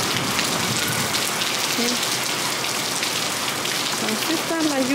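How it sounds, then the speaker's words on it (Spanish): Heavy rain pours down in a steady, dense hiss, loud and close, with a few faint chirps and distant voices barely audible beneath it. "Aquí está la lluvia."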